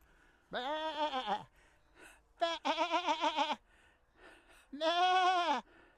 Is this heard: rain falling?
no